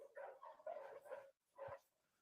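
A big Doberman barks in a horror film, a few loud, close, angry barks in quick succession, a short pause, then one more bark.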